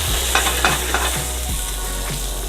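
A steak sizzles steadily in a hot pan as wine is splashed in, the constant frying hiss broken by several soft stirring and scraping knocks, close and without voices.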